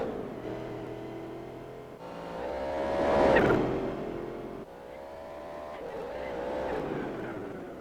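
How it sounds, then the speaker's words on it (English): Supercharged car in Gran Turismo 4 heard from outside, its engine note rising and falling with a thin whine riding over the drone as the car passes by, swelling in loudness and then easing off. "Car sounds pretty good from the outside. You really hear like the supercharger whine."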